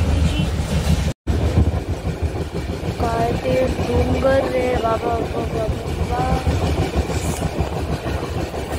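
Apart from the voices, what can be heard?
train riding on rails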